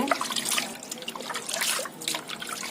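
Water splashes and trickles steadily into a container for green gram curry, a close, bright pouring sound that continues for a few seconds without any talking.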